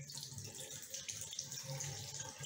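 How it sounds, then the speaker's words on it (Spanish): A tap is turned on for a child's handwashing and water runs steadily into a sink, soft and continuous with a light splashing hiss and no voices. "ella va a abrir el agua"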